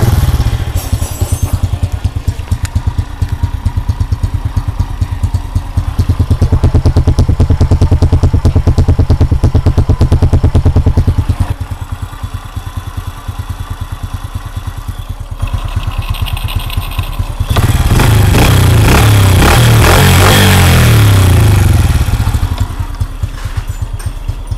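A repaired motorcycle engine runs loud and close throughout, a steady mechanical clatter and drone that rises into a stronger, rougher rev toward the end before settling back.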